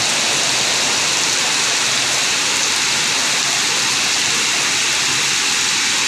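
Heavy rain pours down in a dense, unbroken hiss, loud and close, with no voices.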